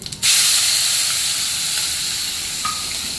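Asafoetida, chilies and onion hit hot oil with a sudden loud hiss, settling into a steady, close sizzle that continues to the end.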